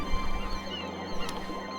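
Cartoonish bird honking in the 1996 PC adventure game Discworld II: Missing Presumed...!?, short goose-like calls over steady game background ambience, with a brief louder honk near the end.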